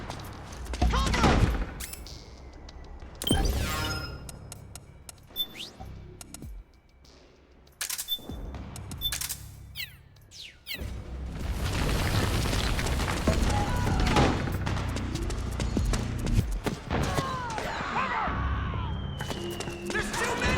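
Gunfire in Metal Gear Solid 4: Guns of the Patriots on PS3, with bursts of automatic fire, sharp single shots and booms in irregular volleys and loud sustained firing in the second half, plus game voices shouting between shots.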